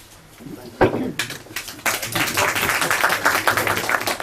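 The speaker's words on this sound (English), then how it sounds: "I always appreciate the claps before I begin." An audience at a lecture on Reform Jewry breaks into clapping after a soft start, the sound swelling into steady, dense applause that carries on to the end.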